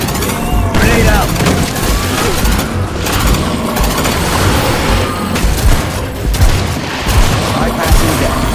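A grenade blast and sustained gunfire in the video game Aliens Fireteam Elite, loud dense bursts of shots and booms packed together for several seconds, with voices talking amid the din.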